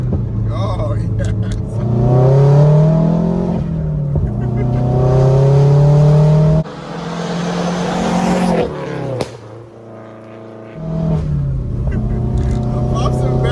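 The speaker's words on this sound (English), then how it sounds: "It makes the pops and bangs." A bagged Subaru WRX revs hard and loud nearby, its engine rising and falling in several bursts with sharp exhaust pops and bangs on the lift-offs and brief quiet gaps between pulls.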